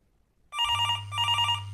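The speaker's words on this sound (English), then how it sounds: "The phone rings often." A telephone bell rings twice in quick succession, loud and close, with a brief pause between the two bursts, following near silence.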